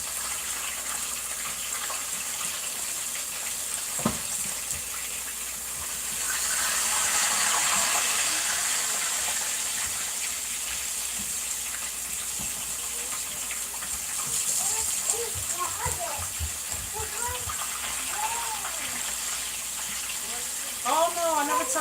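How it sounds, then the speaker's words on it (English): Hot water runs from a tap in a steady gush, swelling louder at times, while chicken is rinsed; voices and clatter come through underneath. "throw that in some hot water, rinse it off"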